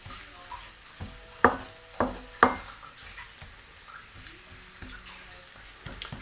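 Onions cooking in a pan on minimum heat for yellow moong dal, a faint low sizzle beneath a few sharp clinks and taps of a utensil against the pan.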